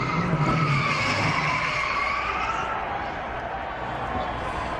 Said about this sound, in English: when you spin at Dover and don't do anything, it's a miracle.